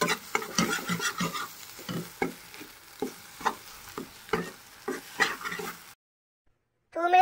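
Spicy egg fry curry cooks in a pan, with rhythmic spoon scrapes and stirs over a steady sizzle. The sound cuts to silence for a moment, then a short burst of noise follows.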